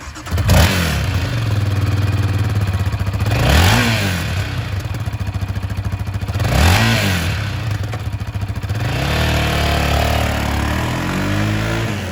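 A used 2021 Yamaha Raptor 700R SE sport quad off-road ATV engine runs loud and close, revving up repeatedly in rising and falling bursts over a steady idle.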